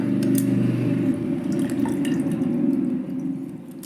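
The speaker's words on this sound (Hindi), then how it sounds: "उस नींबू को उसके अंदर निचोड़ दें" Lemon juice squeezed into a glass of water trickles and drips steadily, close and clear, with a low hum underneath, for a weight-loss drink.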